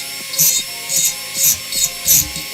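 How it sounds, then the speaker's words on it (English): A small high-speed dental drill whines steadily while carving wood in five rhythmic rasping passes, close and moderately loud. "It is in fact a dental drill"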